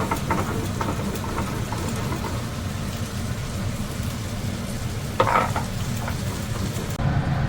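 Potatoes fry in hot oil in a pan for a potato, pointed gourd and prawn curry, giving a steady close sizzle and crackle throughout, with a brief utensil clatter near the end.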